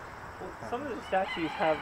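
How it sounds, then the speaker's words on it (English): Rooster crowing outdoors in a garden with statues and bird baths, a few short harmonic bursts heard at moderate distance while people talk over it. "It's a rooster."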